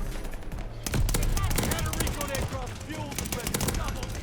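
Rapid automatic gunfire from the Whitley in Call of Duty Vanguard rattles in long continuous bursts, loud and dense, mixed with game effects and a player's voice talking over it.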